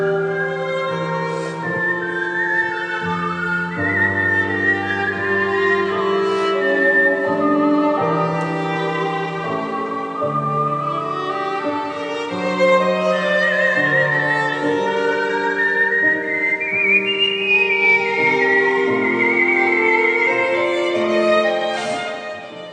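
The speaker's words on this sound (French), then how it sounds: "violon et siffleur se répondent et s'accordent" An ensemble performs at a mountain music festival: a whistler and a violin trade and blend sustained melodic lines in a clear, continuous duet, with pure whistled tones gliding over bowed string notes and no speech.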